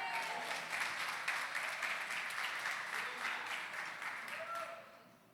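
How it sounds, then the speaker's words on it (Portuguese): Members of a church congregation clap together in praise during a sermon, a full, bright round of applause that stays strong before fading at the end, with a voice faintly present underneath. "você pode aplaudir o Senhor por isso?"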